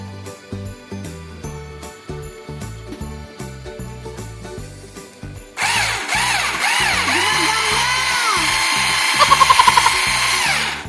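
A cordless hand blender whirs in short bursts, then runs continuously with a rattling, whisking buzz while whisking egg, clinking against a container, loud and close.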